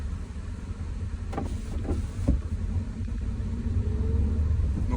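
Inside a Seat Toledo with a petrol engine and manual gearbox on the move, a steady low engine and road rumble fills the cabin, with a few brief knocks and a slight rise in engine drone toward the end.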